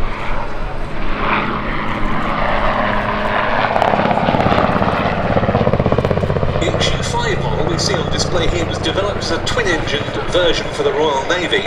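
An RAF Westland Wessex military helicopter flies at the Duxford Battle of Britain airshow, its rotor chop and engine loud and steady throughout while a voice talks over it.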